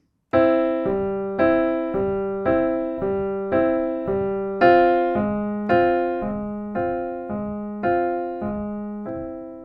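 Piano chords in a steady, rocking eighth-note rhythm, the bass and upper notes alternating back and forth, each chord ringing clearly with no other sound.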